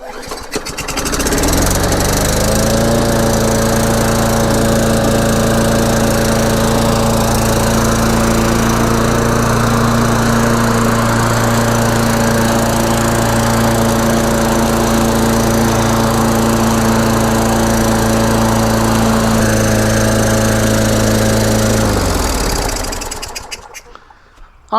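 Free Craftsman push lawn mower catching on a pull start, then its small engine running loud and close with a steady buzzing drone for about twenty seconds before cutting off.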